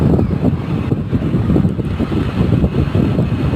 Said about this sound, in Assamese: ইয়াত ইমান বতাহ, গতিকে বতাহৰ মাজেৰে আমি গৈ আছোঁ